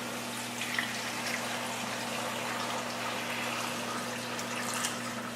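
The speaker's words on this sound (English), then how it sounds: "I put in enough water." Water runs steadily into a full pot holding five pounds of potatoes for soup, a continuous close splashing pour over a constant low electrical hum.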